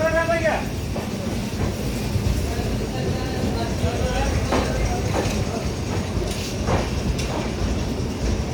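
The Kanpur Bandra SF Express rolls along the tracks with a constant loud rumble and occasional wheel clatter, and a short horn-like tone at the start; voices seem to talk faintly underneath.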